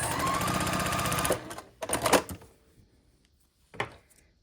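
A sewing machine runs steadily while stitching quilt block triangle pieces, then stops, followed by a few clicks and handling knocks.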